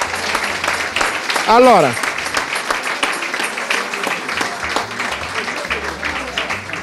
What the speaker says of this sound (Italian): Un applauso se lo meritano.